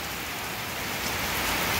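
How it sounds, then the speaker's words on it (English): Heavy rain pours down steadily in a dense, loud, unbroken hiss with no talking. "Look at this rain."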